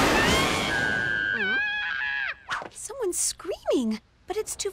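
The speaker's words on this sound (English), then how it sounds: "Someone's screaming." A distant, high screaming voice in an animated spy cartoon, a long wavering cry that gives way to shorter, sliding yelps and squeals, sounding somewhat faint and echoey.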